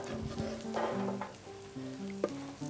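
Fresh green spinach goes into a hot frying pan and sizzles steadily at close range, with a few soft clatters and faint background tones, no speech.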